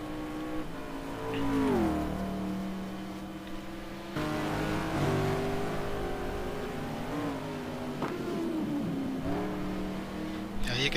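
Race car engines in a GT2 sim racing event at Hockenheim drone and shift pitch steadily throughout, rising and falling with gear changes under continuous commentary voices.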